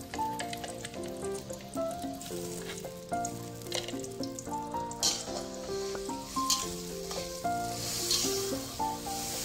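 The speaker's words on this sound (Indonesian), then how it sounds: "Panaskan minyak goreng bumbu yang sudah kita haluskan. Kita tumis sampai baunya wangi." Ground spice paste sizzles and fries in hot cooking oil while stirred, a steady crackle sitting beneath light background music with a plucked melody.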